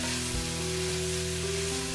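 Vegetables for a Christmas rice medley sizzle steadily in a hot pan as they are mixed, a continuous close frying hiss over a faint hum, with no talking.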